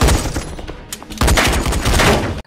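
Gunfire exchange in the Malaysian gangster film KL Gangster 2, a loud dense burst of rapid overlapping shots that pauses briefly before an even heavier barrage cuts off sharply.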